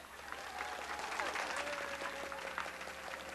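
A stand-up comedy crowd at a live show claps in a sustained burst of applause with scattered whoops and voices in the room, and a faint tone runs beneath it.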